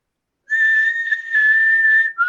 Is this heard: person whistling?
yes